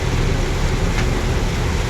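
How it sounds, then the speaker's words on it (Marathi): Heavy rain pounds on a car while driving in Pune, heard from inside the cabin as a dense, continuous roar of water with a low rumble underneath, steady and loud for the whole moment. "खतरनाक पाऊस आहे."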